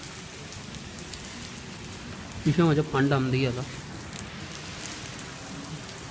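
Steady rain patters throughout, while someone speaks briefly in the middle.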